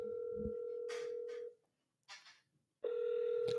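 An outbound phone call placed from a CRM dialer for cold calling: a steady dial tone broken by short dialing bursts, a pause, then a ring tone starting, all fairly quiet and close.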